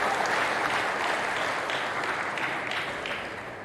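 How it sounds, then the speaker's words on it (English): Concert audience at an outdoor bowl applauds a pianist's entrance with dense, sustained clapping from a large crowd that fades slightly toward the end. "giving him a rousing round of applause."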